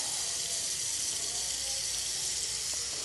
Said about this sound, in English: I'm going to go ahead and fill up this pot of water here